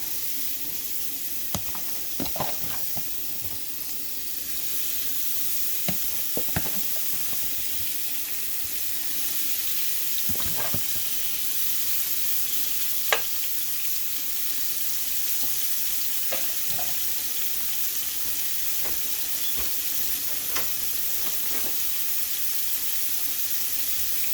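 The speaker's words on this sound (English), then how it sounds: "And then we'll add the shrimp" Shrimp sauté in a hot pan with a steady, close sizzling hiss, punctuated by occasional sharp pops and stirring clicks.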